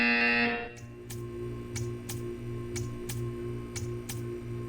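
In Portal, a tone cuts off, then a buzzer sounds in short pulses, repeating evenly about every half second over a low steady hum.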